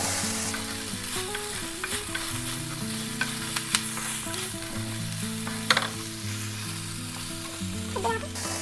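Okra fry with garlic and masala is stirred in a pan, a dense continuous sizzle with low rhythmic scraping as the spoon moves, plus occasional sharp clinks, close and steady throughout.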